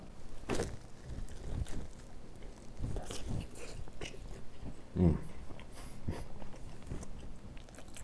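Someone bites into and chews Korean street toast with egg and corn, producing soft crunches and mouth sounds close up against a low background hum, with no talking.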